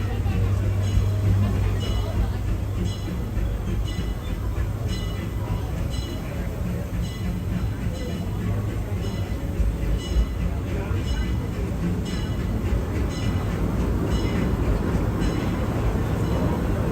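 Steady rattling and clattering of a Disneyland mine train roller coaster rolling along its track, loud and continuous, with voices murmuring underneath.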